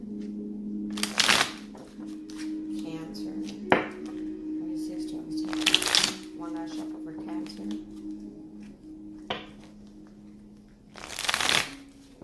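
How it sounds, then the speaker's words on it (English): Brisk riffling bursts of tarot cards being shuffled, repeated three times with pauses, over a steady low hum and occasional soft talk. "3 more shuffles for Cancer."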